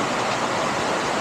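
Heavy rain pours down as a dense, loud, unbroken hiss that fills the whole brief moment, with no other sounds standing out.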